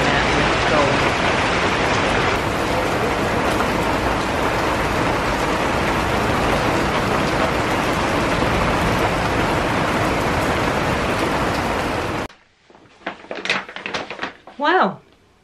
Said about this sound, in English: I love being out in the storm.